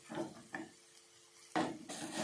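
Onions and masala with chilli powder being sautéed for a mutton fat gravy. A spoon scrapes and stirs in the pan in a few separate strokes, close and moderately loud, with no talk.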